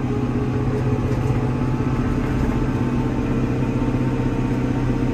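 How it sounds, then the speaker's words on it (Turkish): A Fendt tractor engine runs steadily with a low, throbbing rumble, loud and close, holding an even pace the whole time. "Bak şu an çok rahat yürüyor traktör"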